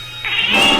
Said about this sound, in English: The cat seems to be meowing from behind this wall.